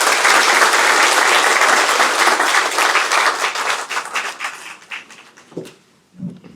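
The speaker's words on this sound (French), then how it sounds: "sous vos applaudissements" Loud applause from a political audience welcoming Senegal's Prime Minister, dense clapping that thins into scattered claps and dies away near the end.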